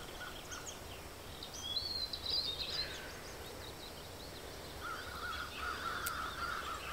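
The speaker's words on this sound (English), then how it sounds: "Maybe you heard the ravens or the crows that are in this area." Ravens or crows caw in an open overcast landscape, a few harsh calls at middle distance against steady wind-like background noise, with no talking.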